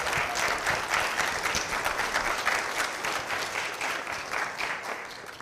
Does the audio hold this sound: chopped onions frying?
no